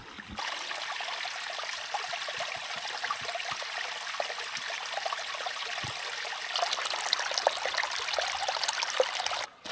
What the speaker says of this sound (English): Here's our creek crossing, and there's some water.